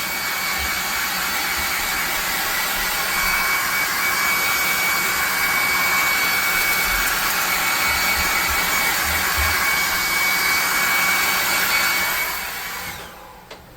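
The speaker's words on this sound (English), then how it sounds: "Here with the hair dryer so it's not sticky when we move on to the next stage." A hair dryer blows steadily at close range on a handmade cleaver so the coating is not sticky, with a loud, even whoosh and hum, then switches off near the end.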